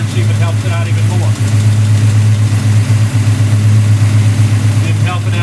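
A car engine fitted with a Street Demon carburetor idles loudly and steadily with a deep, even hum, while a person talks over it.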